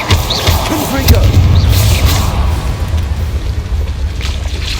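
Confringo fire spell detonating in Hogwarts Legacy, a loud, sustained low rumbling blast that rolls on for several seconds with scattered crackling hits on top.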